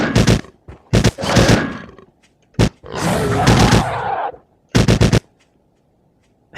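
Rapid gunfire in the video game Trespasser, several loud bursts of automatic shots in quick clusters, mixed with snarling creature roars and grunts, separated by brief pauses.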